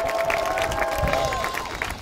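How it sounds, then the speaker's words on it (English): Audience at an outdoor stage concert in Tallinn, applauding as a brass band comes on, with dense, even clapping that holds steady for a couple of seconds under a faint sustained tone. "Big applause, soon applause"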